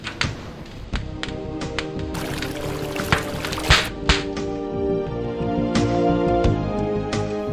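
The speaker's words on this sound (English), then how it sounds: "Then he poured the dust into a barrel of hot water." Dust from a hammered-down idol is poured into a barrel of hot water, a rushing pour broken by knocks and thuds, steady with no talk.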